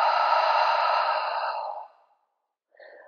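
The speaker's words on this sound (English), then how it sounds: "Open mouth. Exhale." Someone doing a vinyasa yoga flow lets out a long, deep exhale through an open mouth, breathy and close, fading out before a short, quieter breath follows.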